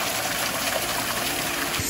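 Small garden waterfall at Hever Castle in Kent, a steady broadband rush and splash of falling water that holds constant and close throughout, with no talking.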